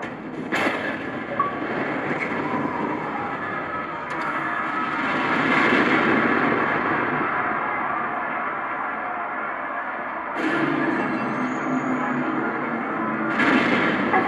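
Blackout skill triggering in the game Watch Dogs, with a heavy rumbling wash of sound and sharp bursts marking the start and later surges, loud and continuous with no talk.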